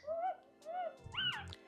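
Newborn Mini Goldendoodle puppies whimper and squeal in thin, rising and falling cries, several overlapping yelps close by and fairly soft, with faint rustling underneath.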